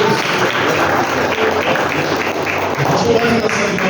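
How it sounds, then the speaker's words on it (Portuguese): Church congregation applauding during a worship service, a steady wash of clapping that runs through the whole stretch at moderate loudness, mixed with talking voices. "Vale uma salva de palmas, irmão,"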